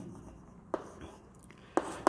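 Chalk or marker writing on a board while working through decimal-to-binary arithmetic: a few short, scratchy strokes in a quiet room, with two sharper taps near the end.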